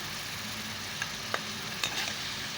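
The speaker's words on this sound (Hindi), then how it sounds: "अब हम कढ़ाई में शामिल करते हैं चिकन। चिकन कढ़ाई में मैंने डाल लिया।" Chicken fries in a hot karahi with a steady, moderate sizzle and a few light knocks and scrapes, with no talking.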